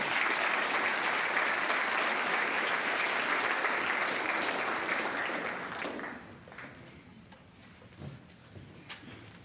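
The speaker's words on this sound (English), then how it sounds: "Give them a round of applause, I guess." An audience at a rising sophomore ceremony applauds, a dense, steady clapping that fades out after about six seconds, leaving a quiet room with a few scattered sounds.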